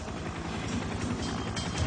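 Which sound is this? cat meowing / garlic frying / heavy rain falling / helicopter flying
helicopter flying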